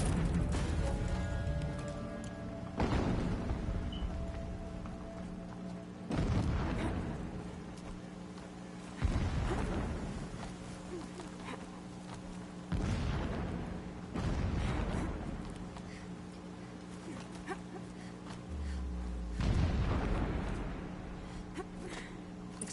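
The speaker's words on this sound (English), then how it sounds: "Explosions in the distance." Several deep, rumbling explosions in a video game roll in one after another every few seconds, muffled and distant, each swelling and fading over a low steady drone.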